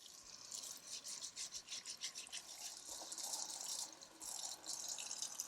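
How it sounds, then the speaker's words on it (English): Potatoes being scrubbed under running tap water in a kitchen sink, a steady splashing flow with irregular rattling and sloshing from handling them, moderately close and continuous with no talking. "We're going to scrub them under running water"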